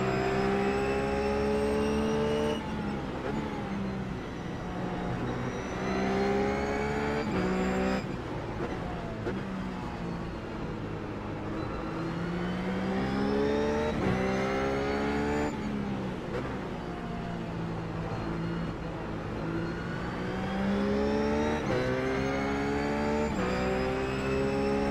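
A GT3 race car in the iRacing video game laps the Zandvoort circuit, its engine revving loudly up and down through gear changes and hard braking, steady and close throughout.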